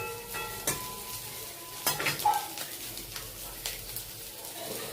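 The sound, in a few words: prawn fritters frying in a pan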